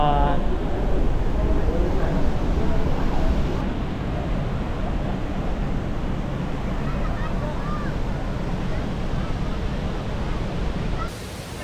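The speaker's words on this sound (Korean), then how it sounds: "여기는 폭포 뒤편으로 가는 길. 여기 바로 위에 폭포가 지나가는 것 같아요." Niagara Falls roars from the path behind the falls, a loud, continuous broadband rush of water that stays steady throughout, with people talking over it.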